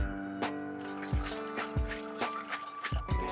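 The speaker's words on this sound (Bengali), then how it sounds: "ভালো করে ধুয়ে নিতে হবে, প্রচুর নোংরা আছে।" Dried shrimp are washed by hand in water, with repeated splashes, drips and trickles coming in irregular bursts, close up and fairly quiet.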